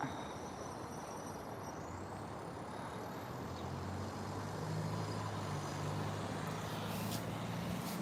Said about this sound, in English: There goes the 104 heading into town.